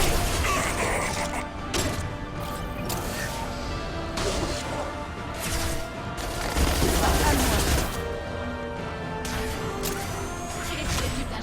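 Gunfire aimed at injection tubes during a Mass Effect 2 battle, with dense bursts of shots, crashes and mechanical clanks over a busy, continuous game soundscape, and voices faintly mixed in.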